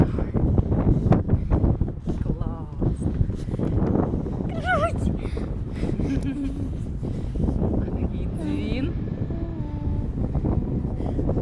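Strong wind buffets the microphone in a constant loud roar at a high viewpoint over Kyiv at the Kyiv-Pechersk Lavra, while people talk and exclaim excitedly over it.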